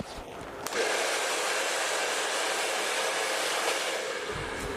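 A handheld blow dryer dries curly hair, roaring steadily and close after a brief lead-in, with its airflow hiss constant throughout.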